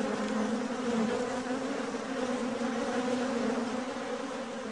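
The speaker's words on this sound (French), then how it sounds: "l'essaim qui quitte la ruche" A honeybee swarm leaving its hive fills the air with a dense, steady, close buzzing drone, unbroken and alone throughout.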